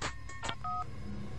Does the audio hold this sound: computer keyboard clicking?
no